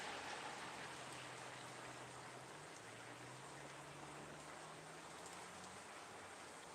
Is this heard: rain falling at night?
yes